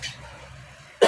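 A single short cough bursts out near the end, loud and close after a quiet stretch of room tone, from a teacher who has had a lingering cough while explaining classroom observation scoring.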